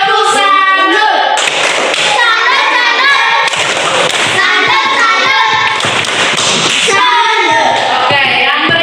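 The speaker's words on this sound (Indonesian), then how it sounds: "Oke, tepuk tangan dulu untuk kelompoknya Arin" Students in a classroom applaud a presenting group, a dense and steady burst of clapping with voices mixed in. Children chatter and cheer throughout.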